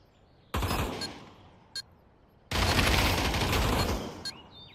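In the VR shooter Pavlov, a round strikes a player's helmet amid gunfire: two loud bursts of rapid shots, the second longer, separated by short sharp metallic clicks.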